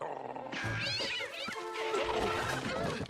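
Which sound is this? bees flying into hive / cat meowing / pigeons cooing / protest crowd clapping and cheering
cat meowing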